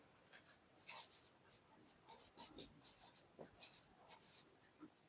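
Chalk or marker scratching across a board during a Hindi-language biology lesson, in quick bursts of strokes with short pauses, near and fairly clear, under the teacher's voice.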